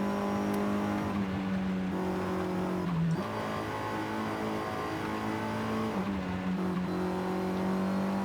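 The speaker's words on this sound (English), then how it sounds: "This just keeps accelerating and accelerating and accelerating." A car in the racing video game Forza Horizon 5 accelerates hard, its engine droning loudly and continuously with pitch climbing through each gear before dropping at two quick shifts.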